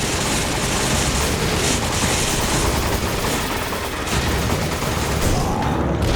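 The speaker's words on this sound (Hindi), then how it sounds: "शिवा गोली मार भी रही है कि नहीं मार रही है, कि सिर्फ मैं ही मार रहा हूँ गोलियां?" Dense, continuous gunfire in Resident Evil 5 rattles loudly in sustained automatic bursts, a chaotic barrage of shots with booming impacts underneath.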